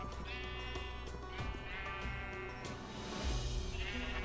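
White sheep in the mobile farming game Township bleat repeatedly, a few overlapping wavering calls over steady background game music, moderately loud and with no talk.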